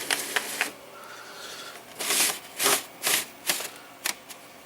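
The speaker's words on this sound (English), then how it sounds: "Give us a form feed to give us a clean sheet of paper" An Apple ImageWriter dot-matrix printer feeding paper forward, a series of short mechanical bursts and clicks, several loud pulses in a row, close and alone.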